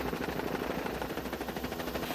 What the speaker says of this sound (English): The downwash on the helicopter sometimes can cause problems with falling rocks, a lot of dirt being blown around.